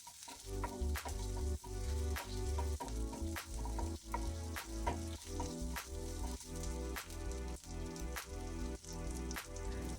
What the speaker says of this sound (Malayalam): ശേഷം ഒരു സവാളയുടെ പകുതി ചേർത്ത് നന്നായിട്ടൊന്ന് വഴറ്റുക